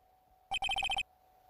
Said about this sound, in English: Who's this stupid sounding ringtone?